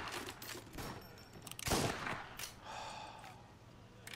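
Gunfire from shooting enemies in Mafia: Definitive Edition on PS4: dense, rapid bursts of shots, one heavier blast partway through, over continuous game noise.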